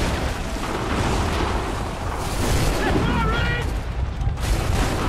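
Incoming gunfire and explosive booms in Assassin's Creed III, a dense, rumbling barrage heard under a player's voice, loud and sustained throughout.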